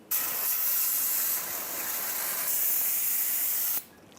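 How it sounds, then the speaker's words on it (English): A can of brake parts cleaner sprays onto brake dust on the rear brakes of a 2007-2013 Chevrolet Silverado 1500 truck, one loud continuous hiss lasting several seconds before cutting off sharply. "I'm going to clean up this brake dust using some brake parts cleaner."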